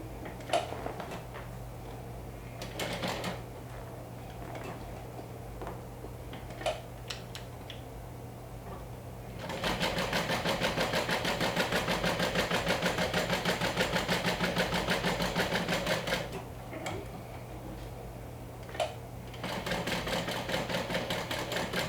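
A sewing machine topstitches around a fabric wand holder with a one-eighth-inch seam allowance, running in several steady bursts separated by quieter ticking pauses as the fabric is repositioned, with no talking.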